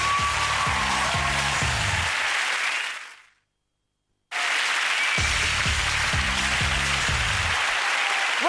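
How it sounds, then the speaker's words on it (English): A game-show studio audience breaks into loud, sustained applause that cuts out completely for about a second, then a second equally dense burst of clapping and cheering follows, filling the room with no talk. "Big round of applause, Sarah."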